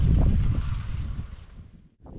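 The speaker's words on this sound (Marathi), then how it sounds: "वाऱ्याचा जास्त आवाज येत असेल" Wind gusting outdoors in the Konkan countryside near a Ganpati temple, rumbling across the microphone in strong low buffets that ease off toward the end, with no talk.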